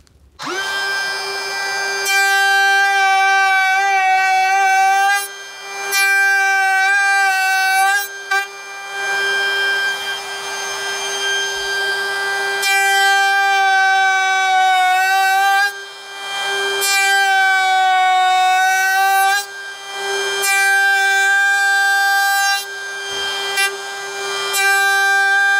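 A handheld router cutting a lap joint across timber whines at a high, steady pitch, rising and dropping in loud bursts as each pass bites into the wood, with brief pauses between cuts.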